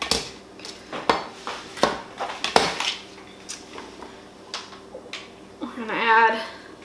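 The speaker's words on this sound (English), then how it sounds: "So we're just gonna roughly slice it since it's going in our blender." A knife roughly slices peaches and other salsa produce on a cutting board, giving irregular sharp chops and clacks with a short rattling scrape near the end, while a person talks throughout.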